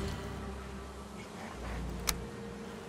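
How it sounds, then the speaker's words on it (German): Bees buzzing in the survival game Valheim, a close, continuous droning hum with a single brief click partway through. "da sind Bienen tatsächlich drin"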